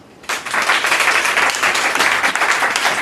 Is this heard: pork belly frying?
no